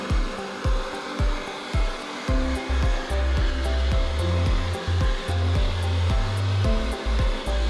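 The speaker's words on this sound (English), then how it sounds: "it takes patience from both the dog and the owner to do a complete blow dry" A hair dryer blows steadily on a Pomeranian puppy, a loud continuous whoosh with a rhythmic pulsing as the airflow is moved back and forth across the fur, close and without talk.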